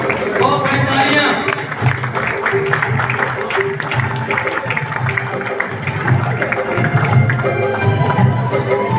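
A crowd claps at a pigeon cup prize distribution ceremony: sustained, loud applause with voices mixed in throughout.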